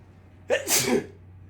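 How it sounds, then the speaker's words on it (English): One person sneezes once, loud and close, a sharp burst that trails off over about half a second against a quiet background hum. "if I'm done sneezing"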